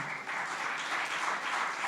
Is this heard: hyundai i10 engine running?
no